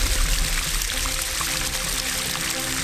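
Liquid pours steadily for a few seconds as water is mixed into wine, a close, continuous splashing trickle without talk.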